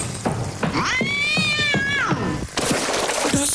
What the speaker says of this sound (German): Kevin, kannst du mal eben die Katze füttern?